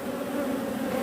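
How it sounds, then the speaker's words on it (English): Honeybees buzz in a dense, continuous drone from an open hive, close and steady with no voices. "there is so many bees in this hive"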